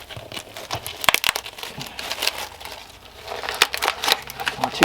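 A fiberglass and burlap layer is peeled off a custom hockey mask, giving close, irregular crinkling and crackling with sharp tearing snaps scattered throughout.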